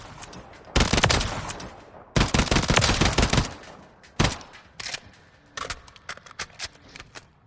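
Burst-fire shots from a tactical weapon in Call of Duty Modern Warfare III, with loud, tight clusters of rapid rounds separated by short pauses and a few lighter single bursts toward the end.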